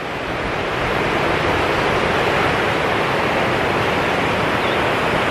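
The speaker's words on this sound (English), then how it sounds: "The river noise is pretty loud." Loud, steady rush of a river beside a rocky hiking trail, a dense continuous roar that fills the whole clip with no pauses or voices.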